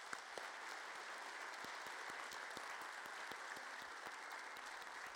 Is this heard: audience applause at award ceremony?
yes